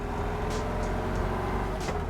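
A restored 1969 VW Beetle cruising in third gear, its air-cooled engine droning steadily and close with a continuous low rumble, a few soft hissing bursts of wind or road noise passing over it.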